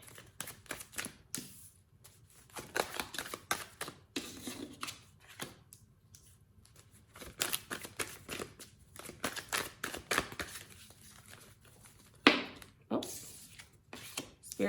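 Tarot cards being shuffled by hand, a series of crisp riffling and flicking bursts separated by short pauses, close and fairly quiet, with a faint voice in places.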